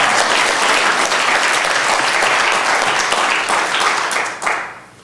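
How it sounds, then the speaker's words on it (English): Audience applause from a crowd at a motivational talk, dense sustained clapping filling the room at full volume before tapering off near the end. "Big round of applause"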